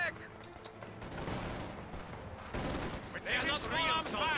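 Gunfire and explosions rattle through a fight in Company of Heroes 2, a 2v2 Soviets versus OKW match: dense, overlapping bursts of shots that swell louder toward the end, with a voice talking over the battle.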